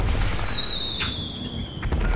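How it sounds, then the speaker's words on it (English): Firework launcher rounds from Grand Theft Auto V shriek with descending whistles, followed by sharp crackling pops against a low rumble of in-game noise. "we gotta get our rocket launchers out of firework launchers"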